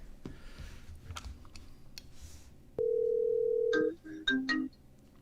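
An outgoing phone call rings out with a single long steady tone, followed by a few short beeps, heard after a stretch of quiet clicks and room noise.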